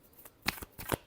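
A deck of tarot cards shuffled in two quick riffling bursts, close and soft.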